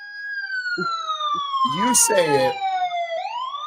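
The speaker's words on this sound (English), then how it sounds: "That was a siren." An emergency siren wails with a long, steady tone that slowly falls in pitch, then rises again near the end. A person briefly talks over the middle of it.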